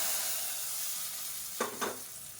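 Tamil tempering vadagam dropped into hot oil with dried red chillies, a steady background sizzle that flares into two brief, louder crackling bursts as the mix hits the pan.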